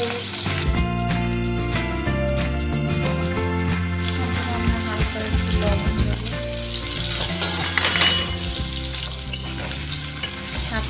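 Potatoes fry in hot mustard oil with a steady, continuous sizzle and occasional stirring, heard under tonal background music.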